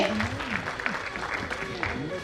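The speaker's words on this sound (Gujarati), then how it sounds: "ખૂબ ખૂબ તાળીઓથી વધાવી લઈએ બાળકને" An audience at a school prize-giving ceremony claps for a child receiving an award. The applause is moderate and steady, and a voice speaks over it.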